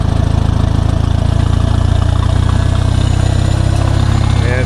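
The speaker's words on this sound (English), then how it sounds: "Until I rev it up, it's not going to pick it up." A Minneapolis-Moline tractor engine runs loud and steady at high revs to raise its sickle bar mower on slow hydraulics, a constant close rumble with no talk.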